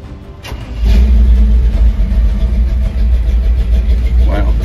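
A carbureted car engine cranks and fires up at about one second, then settles into a loud, steady, close-up idle that holds to the end, with the exhaust running slightly lean.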